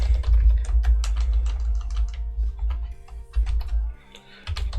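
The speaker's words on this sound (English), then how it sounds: "basically I type in a sentence" Fast, uneven clicking of keys as a sentence is typed on a computer keyboard, close and clear over a low steady hum, with a brief pause near the end before the tapping resumes.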